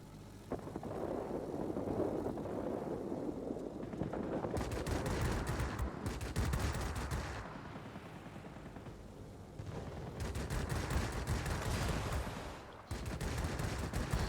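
An I-153P biplane fires machine gun bursts in the World of Warplanes video game, repeated loud rattling volleys of gunfire over a constant engine drone, with brief lulls between bursts.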